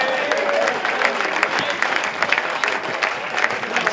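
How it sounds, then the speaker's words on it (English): A round of applause in a hall of fame gathering for a sevens rugby event, with dense clapping from a crowd, close and lively, and voices talking over it. "you're getting a round of applause"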